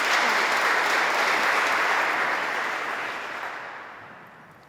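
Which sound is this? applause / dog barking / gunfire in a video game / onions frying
applause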